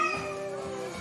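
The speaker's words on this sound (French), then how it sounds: "J'entends Bianca miauler derrière la porte" A cat meows behind a closed door, one drawn-out, slightly muffled cry at moderate distance.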